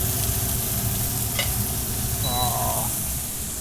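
Butter sizzles in a hot pan with beef pepper rice, a steady close frying hiss with a brief scrape and a short faint tone partway through.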